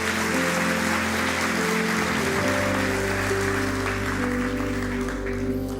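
A church congregation applauds during an evening service, a broad wash of clapping carried over sustained organ or keyboard chords that shift partway through.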